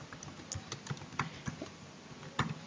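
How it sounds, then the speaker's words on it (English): Someone types a phrase into a search field on a computer keyboard, producing a short run of crisp, close key clicks in an uneven rhythm with small pauses between bursts. "so I will type affiliate marketing here"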